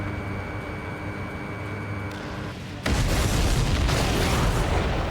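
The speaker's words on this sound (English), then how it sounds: "Did you see that explosion? Looks like that's one of them down." A supply ship explodes in the flight combat game Ace Combat 7, a sudden loud boom partway through that gives way to a sustained roaring rumble over steady engine noise, with no talking.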